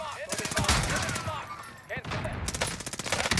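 Rapid automatic gunfire in a shooter game hammers out in dense repeated bursts with short pauses, loud and close, as players talk over it.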